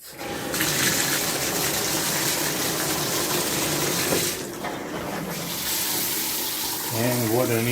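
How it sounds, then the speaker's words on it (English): Water gushes steadily from a bathtub faucet fitted with a newly replaced cartridge, a loud, continuous rush that dips briefly midway before resuming. "After all installation, I turn the water on and I'm gonna test it."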